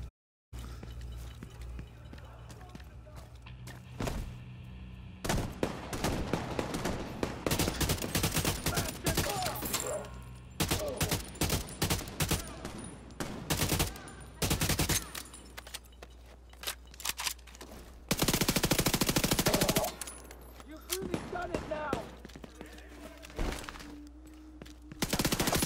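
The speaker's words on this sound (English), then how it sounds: "we got gunfire going on in the distance" Distant gunfire in the Division 2 video game: bursts of rapid automatic shots and scattered single cracks come in irregular clusters over a quiet ambient background, with no talking.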